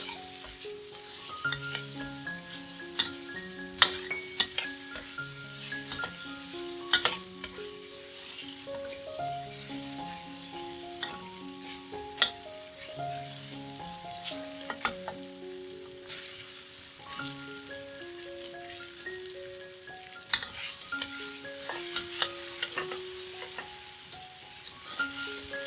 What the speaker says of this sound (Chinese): 倒入灯笼椒，炒一炒